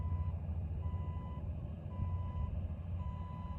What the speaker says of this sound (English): That sure is quite the beeping that's happening from that vehicle over there